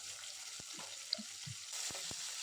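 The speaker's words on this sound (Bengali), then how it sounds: "পেঁয়াজ বাটাটা একটু মিশিয়ে নিব, যাতে এর কাঁচা গন্ধটা চলে যায়, তার জন্য একটু ভেজে নিতে হবে" Onion paste and tomato frying in a pan for a potato chicken curry, a quiet soft sizzle with a few sharp spatula taps and scrapes, close by and without speech.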